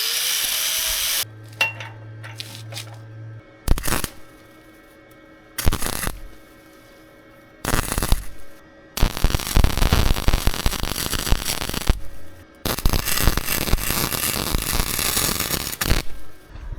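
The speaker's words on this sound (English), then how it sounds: "let me go ahead and get the welder" A welder lays beads on a homemade transmission jack, several bursts of crackling, hissing static of varying length separated by quieter gaps and a few metallic clanks.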